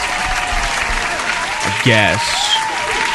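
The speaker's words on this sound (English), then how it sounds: "I guess that gets a clap again." Clapping applause runs as a steady wash of claps under a voice, who speaks briefly over it partway through.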